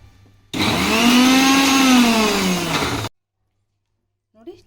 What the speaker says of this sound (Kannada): ಬನ್ನಿ ಈಗ ಮಿಕ್ಸಿ ಮಾಡ್ಕೊಳ್ಳೋಣ.